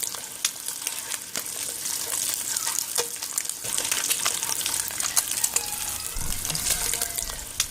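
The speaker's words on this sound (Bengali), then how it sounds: "ডিমগুলো এইরকম একটু লাল লাল করে ভেজে নিচ্ছি।" Eggs fry in oil in a pan with a steady crackling sizzle and scattered sharp pops, close by, joined near the end by a low rumbling burst.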